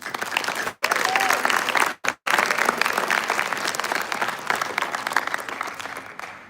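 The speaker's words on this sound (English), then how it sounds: "let's give them a huge round of applause" A crowd applauds the youth legislators at the 2026 Texas Lorenzo de Zavala Youth Legislative Session: dense, sustained clapping fills the room, broken by a few brief cuts, with no talk over it.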